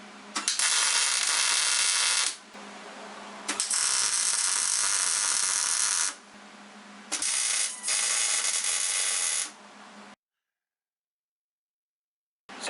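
Loud bursts of metal grinding or wire-wheel cleaning along the weld seams of a homemade steel rear bumper for a 1998 Jeep Cherokee XJ, three long runs separated by brief pauses, ending in silence.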